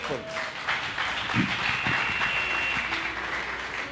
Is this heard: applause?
yes